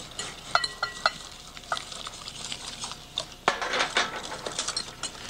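Boiling milk is added bit by bit to a flour mixture in a pan, giving a steady bubbling sizzle with repeated scraping stirs and clinks, one sharper splash partway through, and no talk.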